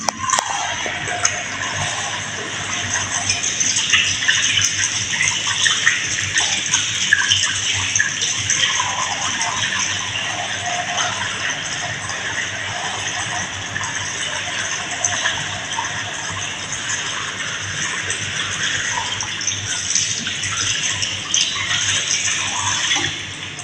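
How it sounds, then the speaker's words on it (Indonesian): Steady running tap water splashes continuously over hands being washed with soap, a broad hissing gush that stays even throughout. "Sekarang kita cuci tangan 6 langkah dengan air mengalir dan juga sabun."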